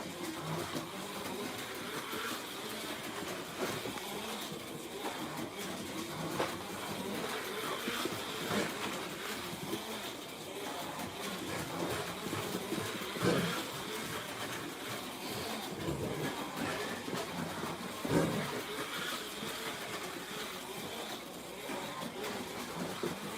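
A Camaro slot car with a level 42 magnet circles a track at length, its motor giving a continuous buzzing whir that swells and fades slightly with each lap, faint rattles from the rails.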